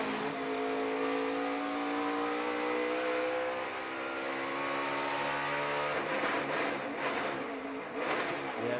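A NASCAR Camping World Truck Series race truck drones at full throttle, its engine pitch rising smoothly and then breaking up around a fumbled third-to-fourth gear shift, heard at moderate distance amid steady crowd and track noise, no talking.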